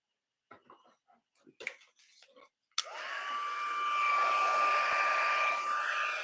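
A heat tool blowing to heat-set a craft project starts with a click and holds a steady, loud whooshing roar with a thin whine. A person talks briefly before it switches on.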